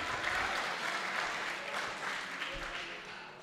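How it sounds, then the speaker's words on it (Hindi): An audience at an international mushaira poetry gathering in Pune breaks into sustained applause, a dense wash of clapping hands lasting the whole moment, with voices mixed in. "अब तो ताली बजा दीजिए"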